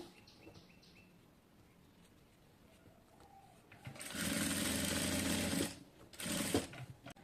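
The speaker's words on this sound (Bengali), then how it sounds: "আমি 1 থেকে 2 সুতা পরিমাণ ভিতর দিকে হচ্ছে একটি চাপ সেলাই দিয়ে দেব।" Sewing machine running a short pressed stitch along the turned edge of a salwar pocket opening, a steady mechanical whir lasting about two seconds, then a second brief burst after a pause, following quiet handling.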